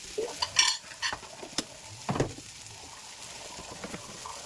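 Sausage pieces frying in a pan are stirred with chili powder, giving a few scraping and clinking strokes over a quiet background sizzle, with the stirring bunched early and then easing off.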